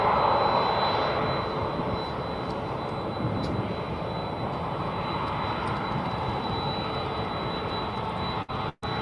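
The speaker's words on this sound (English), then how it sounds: "that UPS aircraft which is approaching us" A UPS Boeing 767 approaches DFW Airport as a steady, broad engine rumble holding level for several seconds in the background, with a couple of brief clicks near the end and no speech.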